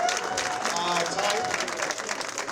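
Audience applause for a bowling team at a tournament finals in a bowling alley, a steady dense wash of clapping filling the whole moment, with a few voices mixed in.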